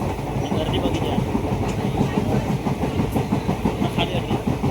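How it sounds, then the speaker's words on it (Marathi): A special train running to Mumbai from the Konkan side rumbles steadily with a rhythmic clickety-clack of wheels on rails, loud and close, heard from on board or right beside the track. "आपल्या एक ट्रेन भेटलेली आहे आणि ही स्पेशल ट्रेन आहे."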